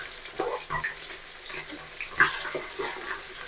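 Fish fried in a pan until red and crisp, a low, steady sizzle with soft crackles and a few sharper pops of oil, fairly quiet and close, with no voices.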